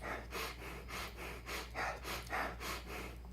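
Rapid fire-style yoni breathing exercise: quick, forceful nasal breaths pulse in an even rhythm, about eleven short puffs in a row, close and soft, with no talking.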